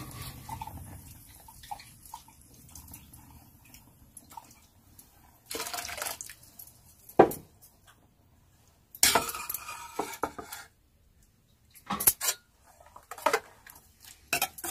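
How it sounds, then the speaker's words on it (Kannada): A grinder jar is rinsed with a little water and the ground masala is poured into the pot, with metal clinks, scraping and splashes coming in short bursts separated by quiet pauses. "ಖಾರ ರುಬ್ಬಿದ್ದಕ್ಕೆ ಒಂದೇ ಒಂದು ಸ್ವಲ್ಪ ಕಟ್ಟನ್ನ ಇದಕ್ಕೆ ಹಾಕಿ ತೊಳೆದು ಹಾಕ್ತಾ ಇದ್ದೀನಿ."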